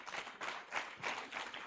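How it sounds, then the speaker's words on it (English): An audience at a national agricultural extension week event gives a round of applause, with clapping that swells in several uneven waves, moderately near and fairly quiet overall. "So maybe just a round of applause for them."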